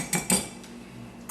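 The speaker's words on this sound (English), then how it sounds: "You give them another little whisk." Beaten egg whites are given a brief whisk in a bowl, heard as a few quiet metallic clinks and taps of the utensil against the bowl with near-silence between them.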